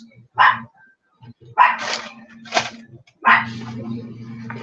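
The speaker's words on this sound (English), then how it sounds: "they can hear a gnat fart, and they have to bark at it" Several dogs bark in short, sharp bursts, four loud, close outbursts separated by brief pauses, with a faint low hum underneath.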